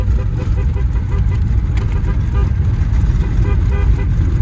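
A car horn sounds over a loud, steady engine drone from inside a moving Tofaş car fitted with an Audi diesel engine, in third gear at about 30.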